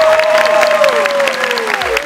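A crowd applauds loudly at an innovation awards ceremony as a vertical-axis community wind turbine is honoured. The clapping is continuous and close, with gliding music tones running beneath it.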